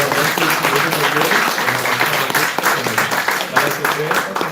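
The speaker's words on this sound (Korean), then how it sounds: "우리 감사로 우리 박수 이렇게 하도록 하겠습니다." Congregation applauding at a church Sunday service for a pastor's installation, a dense, steady wash of many hands clapping throughout, fairly loud and close, with voices mixed in underneath.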